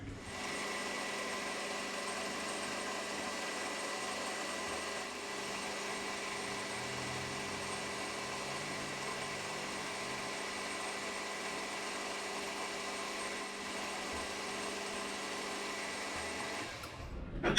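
A metal lathe turns a mill spindle part in a workshop, a steady continuous motor hum with a tonal whine running unbroken for many seconds, close and even, stopping abruptly at the end, no talk.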